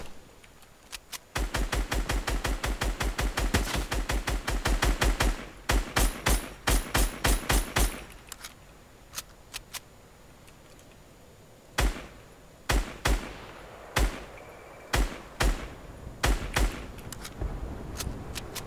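Rapid bursts of gunfire in a Fortnite Team Rumble match: a dense volley of sharp shots for several seconds, then scattered single and paired cracks after a brief lull, loud and close with no talking.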